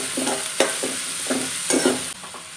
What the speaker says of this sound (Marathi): कांदा चांगला परतून घ्यायचा आहे.